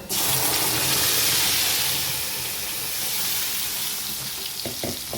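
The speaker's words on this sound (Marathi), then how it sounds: "थोडंसं तिखट घातलं डायरेक्ट वरण घालून घ्यायचं" Dal poured into hot oil tempering with chilli powder makes a sudden loud sizzle that hisses strongly, then settles into a softer bubbling frizzle, with a few clinks near the end.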